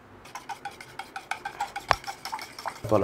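A spoon stirring curd mixed with red chilli sauce and dark soy sauce on a plate, a quick run of light scraping clinks and taps, close and fairly quiet, with a louder knock near the end.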